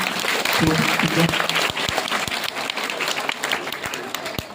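Applause from an audience at a school entrance festival honoring top-ranked students, a dense burst of clapping that stays steady and fairly loud, with crowd murmur and voices mixed in.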